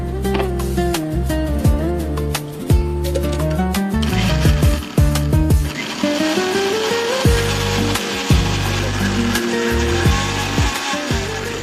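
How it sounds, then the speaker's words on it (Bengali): An electric blender whirs loudly and steadily, blending a sauce for lamb chops, with the motor pitch shifting as the contents churn. "ব্লেন্ড করতে হবে।"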